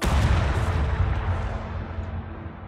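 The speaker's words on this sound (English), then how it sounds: "let's blow it up. Bombs away!" A bomb explodes on a planet in the Astroneer video game: a heavy, rumbling blast that starts loud and slowly rolls away into a fading roar, with no talk.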